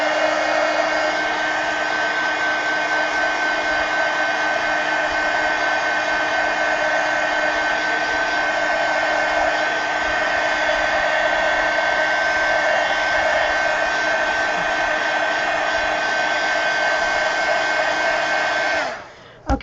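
A hair dryer blows steadily to dry paint on a decorated pumpkin, a loud, even whooshing drone lasting almost twenty seconds before it abruptly switches off.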